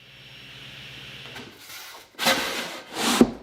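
A saw cuts a wooden drawer bottom to width in a few rough strokes, building from a quiet steady whir to louder rasping bursts near the end.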